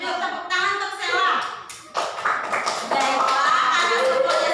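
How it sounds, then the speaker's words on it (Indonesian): A classroom of children claps together for a classmate, a busy, dense patter of many hands. Children's voices and a teacher's voice are heard over it. "duduk tepuk tangan untuk Sela"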